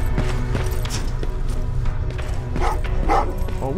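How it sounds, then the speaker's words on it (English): A dog in Terminator: Resistance barks several times in a row, loud and close, over steady game music and ambient rumble. "Oh, what's with the dog?"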